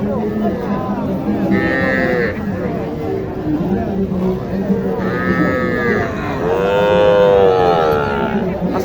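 A young Sahiwal calf at a cattle market moos several times, long drawn-out calls rising and falling close by over a constant murmur of crowd chatter and other cattle.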